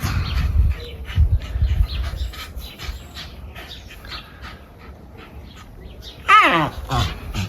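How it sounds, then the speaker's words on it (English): Dog in a garden barks and whimpers intermittently, with a loud yelping burst near the end, alongside scattered bird calls and someone talking nearby. "Sorry for the noise, my dog's enjoying the garden."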